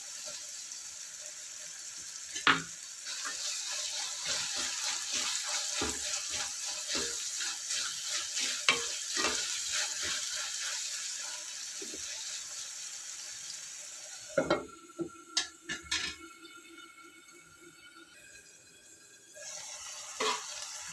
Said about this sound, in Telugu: ఉల్లిపాయలు ఇలా మగ్గుతూ ఉంటాయి.